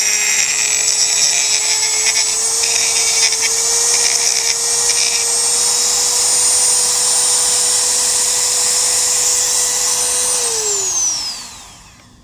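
A grinding wheel works the edges of aluminum pieces, a loud, steady high whine held for about ten seconds before spinning down and fading at the end.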